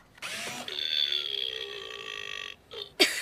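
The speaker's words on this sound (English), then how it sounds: "I'll call him Robo-Burp" A toy robot lets out a long, loud mechanical burp lasting a few seconds, followed by a short whirring blip at the end.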